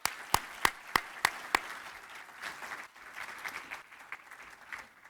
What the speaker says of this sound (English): I'd really like to give you some applause for your work.